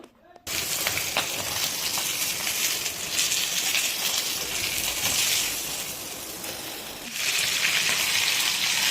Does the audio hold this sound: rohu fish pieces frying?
yes